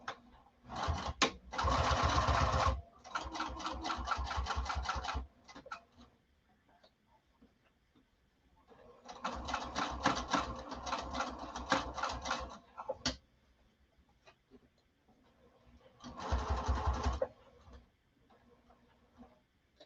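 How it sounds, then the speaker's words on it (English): A sewing machine stitches in three loud bursts of rapid, buzzing needle strokes separated by quieter pauses, recorded close up with little else around it. "we're just going to start stitching"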